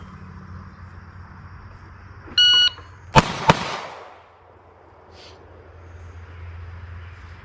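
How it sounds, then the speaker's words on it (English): A Taurus G3 pistol fires a quick double tap outdoors at a range: a brief beep, then two sharp, loud cracks in fast succession that ring out and decay over a low background rumble. "now we're gonna hit a double tap."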